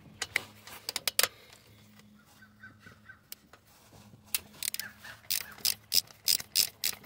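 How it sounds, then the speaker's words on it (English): A ratchet wrench loosens 10 mm bolts holding the throttle body to the intake manifold on a GMC Acadia, close-up rapid clicking in short bursts separated by pauses, with a faint low engine-bay hum beneath. "we're gonna move the 10 mil bolts that's holding the throttle body to the intake manifold"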